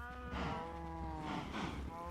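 Cattle in a farm survival video game moo twice in long, drawn-out calls, fairly close and clear against quiet game ambience, with no talking over them.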